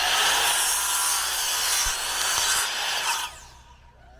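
A saw rips through a wooden joist during an outdoor building project, a loud continuous rasping cut close by that runs for about three seconds before it drops away into quieter residual noise.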